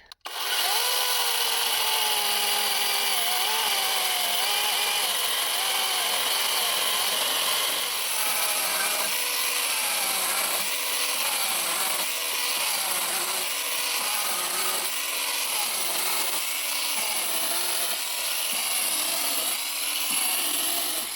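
A GTM CS18/250BL cordless battery chainsaw runs continuously at high speed while its chain lubrication is tested, giving a loud steady whine up close with slight fluctuations and no talk.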